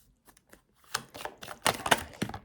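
Tarot cards are shuffled and drawn by hand in a quiet room: soft flicks at first, then a run of crisp, irregular card snaps and riffles that grow louder, close to the listener.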